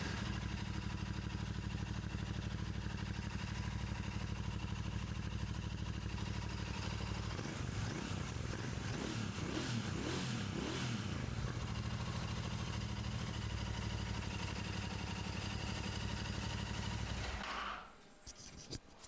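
Royal Enfield GT650 motorcycle with a Motowings exhaust runs steadily at idle, with a short stretch of throttle blips partway through before cutting off near the end.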